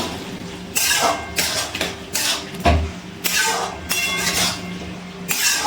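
Broccoli and butter being stirred in a pan: repeated scraping and clinking strokes of a utensil against the pan come in irregular bursts, fairly close, with no talk.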